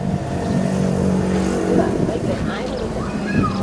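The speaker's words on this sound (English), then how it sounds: "This is how the engine is installed across the front." A small vehicle engine mounted crosswise at the front, belt-driven to a little gearbox and prop shaft, runs steadily and loudly with a constant mechanical drone, while voices talk over it, in Thailand in 1999.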